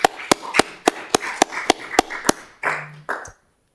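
About ten sharp, evenly spaced claps in a quiet city council meeting room, followed by a brief murmur before silence; sparse applause from a small group rather than a large crowd.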